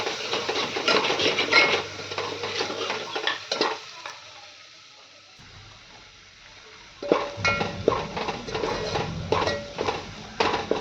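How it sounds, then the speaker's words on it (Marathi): Thick ground spice paste stirs and sizzles in hot oil, a scraping spoon roasting it in the pan in bursts, pausing for a few seconds midway before resuming. "मसाला चांगला तेल सुटेपर्यंत भाजून घेऊयात"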